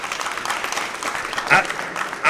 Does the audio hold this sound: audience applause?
yes